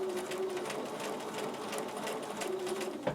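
A sewing machine fitted with a quarter-inch presser foot stitches a seam in fabric, a steady fast mechanical whir close by that runs the whole time and ends with a small knock.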